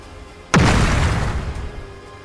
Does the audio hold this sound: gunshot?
yes